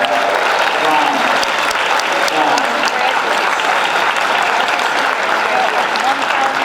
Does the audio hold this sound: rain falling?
no